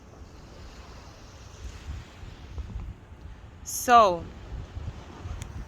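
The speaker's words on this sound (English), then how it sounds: "Right now, I'm out here at the beach." Wind and surf at a beach make a steady, broadband rush throughout, with a single short spoken word cutting in near the middle.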